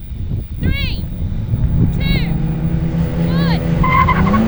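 A BMW M3, AMG C63 S and Audi RS4 launch side by side in a drag race, with repeated sharp tire chirps over loud, rising engine roar; a voice can be heard faintly underneath.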